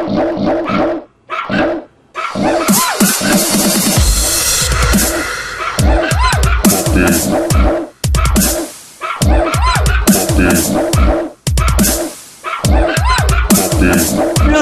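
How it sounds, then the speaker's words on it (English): A puppy barks and yips repeatedly in loud, close, rhythmic bursts set to a dubstep beat, with a few brief pauses between phrases. "Look at the puppy dog."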